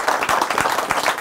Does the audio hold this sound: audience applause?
yes